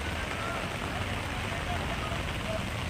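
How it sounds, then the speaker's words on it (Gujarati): Heavy rain pouring down over Vadodara city, a dense, steady broadband hiss that fills the whole stretch without a break and with no voices. "ધોધમાર વરસાદ જે છે તે વરસી રહ્યો છે"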